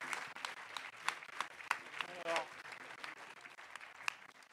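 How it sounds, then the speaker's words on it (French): A small audience at a quiz event applauds the winner, a modest patter of clapping with a few sharper claps standing out, fairly faint, alongside a brief murmur. "c'est John Lackland, on l'applaudit bien fort."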